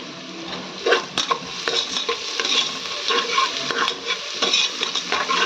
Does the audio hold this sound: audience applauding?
no